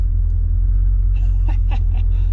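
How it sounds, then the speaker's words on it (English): Steady low engine rumble from inside a rollback tow truck hauling a loaded car down the road, loud and continuous, with a few brief voice-like sounds near the end. "All loaded up on his rollback and on our way back to my place."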